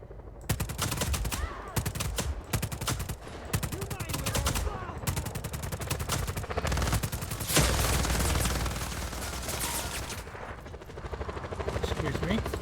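Gunfire and explosions from the open-world action game Just Cause 4 crackle in dense, rapid bursts with booming blasts, loud and nearly continuous throughout, with a voice talking at times.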